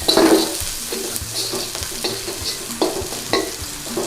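Garlic sizzles in a little hot oil in a pan for a Thai stir-fried cabbage dish, a close steady hiss with quick scraping stirs and soft utensil taps.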